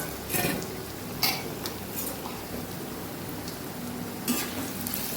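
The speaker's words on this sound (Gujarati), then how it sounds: "અહીંયા આપણું તેલ સરસ ગરમ થઈ ગયું છે, તો આપણે બટેકાની ચિપ્સને પહેલાં ફ્રાય કરી લઈશું।" Potato chips frying in hot oil for a Kathiyawadi okra and potato dish, a steady soft sizzle with a few louder spits and stirring scrapes, close by and without talking.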